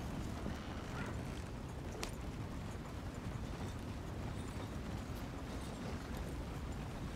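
Horse hooves from riding in the video game Red Dead Redemption 2, a continuous dense rumble of galloping hoofbeats with a few sharper knocks, steady and moderately loud throughout.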